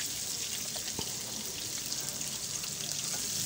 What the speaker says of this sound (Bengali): এই যে আমার পেঁয়াজটা ভাজা হচ্ছে